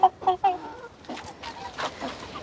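A rooster gives three sharp clucking calls close by, followed by softer agitated clucks and squawks.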